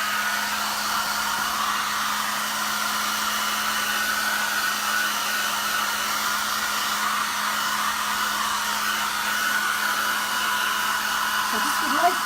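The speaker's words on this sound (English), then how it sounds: "Right, hairdryer." A hair dryer blows continuously near the microphone, a steady loud airy whoosh with a constant low hum underneath, running unchanged throughout.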